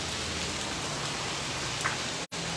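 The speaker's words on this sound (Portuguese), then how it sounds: "Muita chuva caindo" Heavy rain pours down at night over the town centre of Varjota in Ceará, Brazil, a dense steady hiss of drops hitting the ground and surfaces, broken by one brief dropout near the end.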